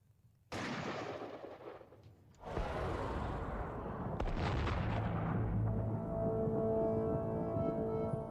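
A percussion-cap musket goes off in a Gettysburg 1863 battle reenactment with a sudden loud crack, then another heavy boom follows, each leaving a long rumbling tail.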